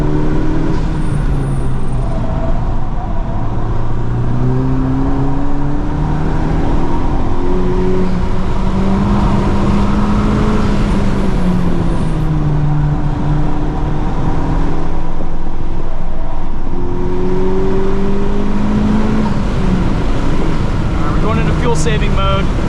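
A 2023 FL5 Honda Civic Type R on all-season tires drives a flooded track, its engine droning steadily with rising and falling pitch through corners under a constant hiss of water spray, loud and close, with someone talking over it.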